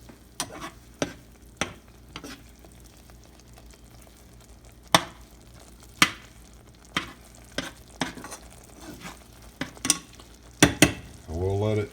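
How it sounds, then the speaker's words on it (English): Freeze-dried food is stirred in a pot of boiling water with scattered sharp clinks of a utensil against the pot over a soft bubbling hiss, ending in a burst of louder scraping. "Give it a quick stir."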